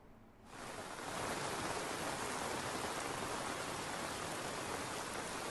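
Heavy rain in Vadodara, Gujarat, begins abruptly and pours down in a dense, steady hiss that stays loud and continuous throughout, with no voices.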